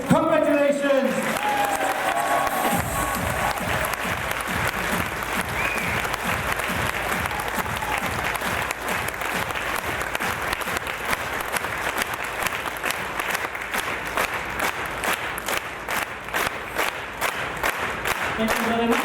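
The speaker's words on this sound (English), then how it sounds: "he needs an extra big applause" A convention crowd at the Eurofurence puppet show breaks into big applause. A voice speaks briefly first, then loud, sustained clapping follows and settles into a rhythmic, pulsing beat that carries on to the end.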